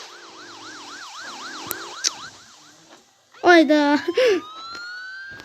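Police car siren during a video game chase: a rising and falling wail repeats several times, then gives way to a louder burst of shouting and brief sharp sounds before a high siren tone continues under a short spoken word.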